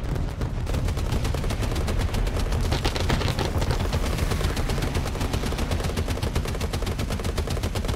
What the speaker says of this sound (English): I'm getting shot at too